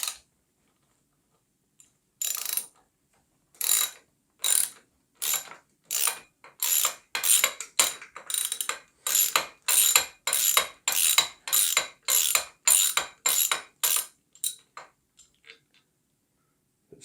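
A wrench ratchets on nuts beneath a Tohatsu outboard motor during an impeller change, a long run of quick, evenly spaced metallic clicks in short bursts, close and clear with no talking.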